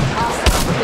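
A single gunshot in the mobile game Apex Legends Mobile, one short sharp crack partway through, set over a busy, steady bed of game sound.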